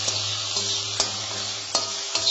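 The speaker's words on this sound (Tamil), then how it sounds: "இப்போ நல்லா வதக்கிக்கலாம் நம்ம." Mushrooms sauté in a pan with a steady, close sizzle as they are stirred, with a few sharp scraping strokes at intervals cutting through the constant frying hiss.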